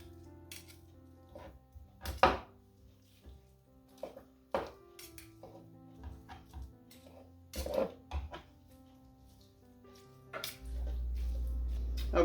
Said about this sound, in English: Okay, we cut it all up.